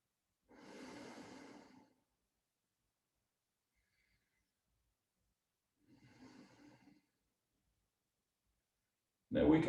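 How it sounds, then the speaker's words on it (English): Slow, deep abdominal breaths taken while holding a standing yoga kriya posture: two soft, close breaths separated by long silence, with a sharper breath at the very end. "I'm going to take about 5 or 6 deep breaths there."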